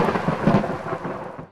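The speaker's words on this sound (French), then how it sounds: "Le tonnerre gronda au loin." Thunder rolls in a low, sustained rumble with a brief swell partway through, fading out at the end, heard alone with a hiss like rain beneath it.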